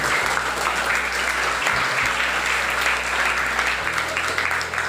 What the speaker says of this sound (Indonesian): Sekali lagi kasih aplaus buat semuanya